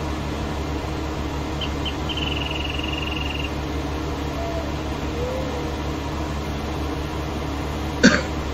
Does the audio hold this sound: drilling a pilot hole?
no